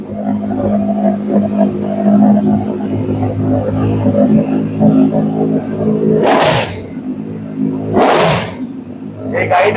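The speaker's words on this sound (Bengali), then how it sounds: "কারণ অ্যারো এক্সস্টের আওয়াজ শুনুন কাঁপে" A used Kawasaki Z900 superbike fitted with an Arrow slip-on exhaust idles with a deep, steady burble, then two sharp, loud throttle blips crack out in quick succession.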